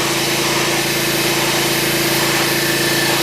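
Petrol pressure washer engine running hard with a surface cleaner on a concrete pool deck, a close, steady, buzzing drone with a constant rhythmic pulse and no pauses.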